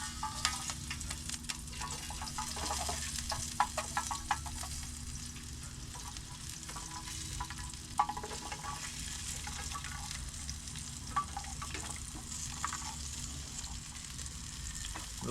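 Food fries in a hot mess kit pan over a camp flame, a steady close sizzle and crackle with scattered pops and a few soft scrapes, no talking.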